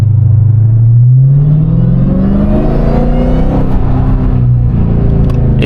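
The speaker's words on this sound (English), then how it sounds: "Downshift sound like, I don't even know what to describe it as no more" A 717 hp Dodge Hellcat downshifts, its engine rising from a deep steady drone into a loud, climbing rev that holds and wavers close by, with no voices over it.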